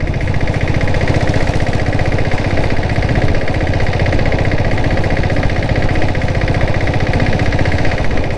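A diesel-converted Royal Enfield Bullet motorcycle engine, 7.5 HP with a turbo, runs loud and close in a continuous rapid knocking chug with strong vibration and no pauses.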